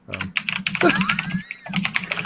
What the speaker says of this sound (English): when Layla starts typing, I get nervous